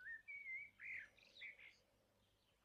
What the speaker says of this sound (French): combien le chant des petits oiseaux est mélodieux